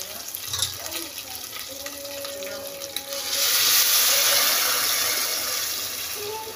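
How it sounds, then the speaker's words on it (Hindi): Water poured into a cooking pot on the stove for making stock for a light mandi-style Eid meal, a steady rushing pour that swells loud and full midway and carries on. "यहाँ पे मैं पानी ऐड कर दूँगी इसमें"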